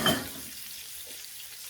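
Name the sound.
fish belly frying in a pan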